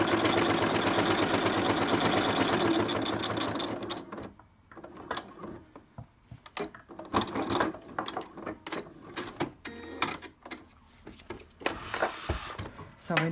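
A sewing machine runs in a steady whirring burst, stitching Velcro onto a fabric fidget mat, then stops, followed by handling clicks and rustles up close.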